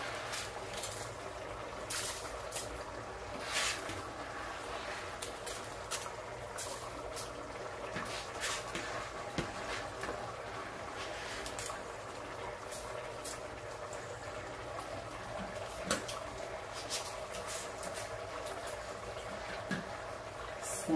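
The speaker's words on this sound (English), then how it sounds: "My water is already boiling." A pot of water boils on a kitchen stove before rice is added. It gives a continuous soft bubbling hiss with small crackling pops and sits at a moderate, even level throughout.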